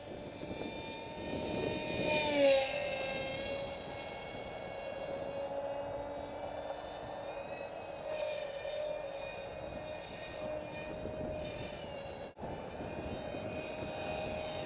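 A FRCFoamies F22 midmount prototype RC foam plane flies on a windy day, its electric motor giving a steady, moderately distant whine with a slight pitch rise and fall as it passes, and no talk.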